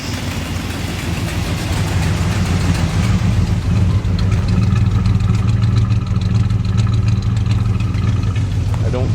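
A big block engine in a Squarebody truck idles steadily at the tailpipes, a loud, continuous low rumble with a slightly fluttery exhaust pulse.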